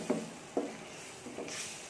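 Masala for chana dal frying in a pan and being stirred: a soft continuous sizzle with a few distinct scraping stir strokes, close and fairly quiet.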